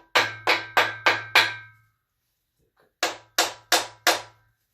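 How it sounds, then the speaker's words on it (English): A nylon-head hammer strikes the crankshaft of a Quad 4 engine nine times, in a quick run of five blows, a pause, then four more, each a sharp, close, dull knock with a short ringing tail. "I'm going to strike the crank from the front. Have a hammer with a nylon head on it"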